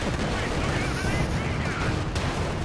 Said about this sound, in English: First rocket artillery, where's it going to land?